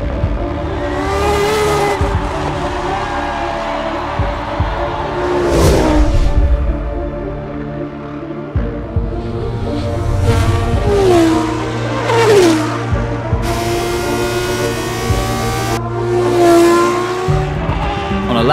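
Formula 1 car lapping Jerez in the F1 2013 racing game, its engine revving hard and rising through gears with repeated downshift drops, loud and continuous, with speech faintly underneath.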